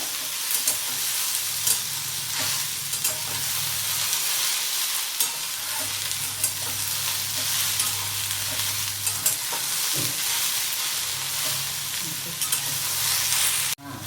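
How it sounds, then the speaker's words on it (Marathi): Okra frying in a pan for Marathi bhendiche bharit, a continuous loud sizzle close up with frequent scraping stirs, the hiss dipping briefly at times before resuming. "डाग पडेपर्यंत भेंडी भाजायला लागली चांगली. डाग पडेपर्यंत जरा भाजायचं."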